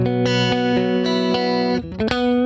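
An electric guitar plays through a clean Fender 59 Bassman 410 amp, ringing chords struck in a steady rhythm and then a quicker flurry of notes near the end, loud and close with no voice.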